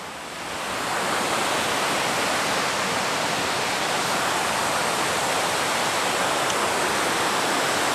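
Tad Kwang Si waterfall roars with steady, dense rushing water that swells in over the first second and then holds loud and unbroken throughout, with no voices.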